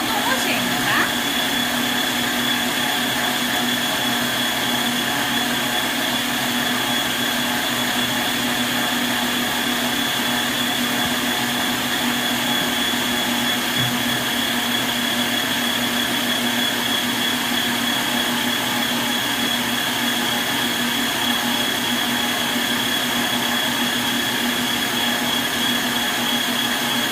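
Electric stand mixer beating cake frosting, a loud constant motor whine with steady tonal hum that holds unbroken throughout, its load growing heavier as the frosting thickens.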